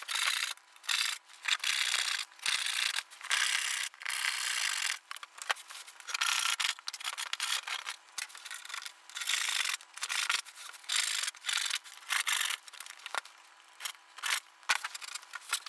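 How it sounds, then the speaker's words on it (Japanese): A Japanese pull saw cuts wood for a carpenter's workbench, finishing a cut a circular saw could not reach, with quick rhythmic rasping strokes close up and steady throughout, no voices. "また手ノコで切っていきます。"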